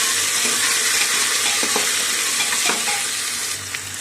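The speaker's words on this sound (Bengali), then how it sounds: "তো আলুটা তেলের উপরে দিয়ে নাড়াচাড়া করে নিয়েছি।" Washed potato pieces with ginger-garlic paste fry in oil while being stirred, a loud continuous sizzle with scraping and clinking, easing slightly toward the end.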